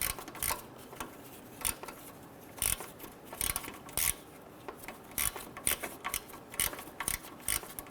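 A hand ratchet with a shallow socket clicks while loosening bolts on a 2006-2010 Hummer H3 during power steering pressure line work, producing bursts of sharp, close, irregular clicks.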